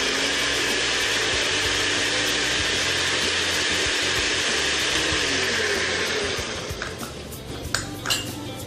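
A blender spins roasted garlic in a loud, steady whir for about six seconds, then stops and leaves a few light clinks and knocks.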